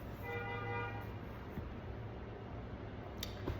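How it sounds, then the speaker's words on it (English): A car horn sounds once in a brief, fairly faint toot at the start, over a steady background hum with no talking. "Confirmation honk."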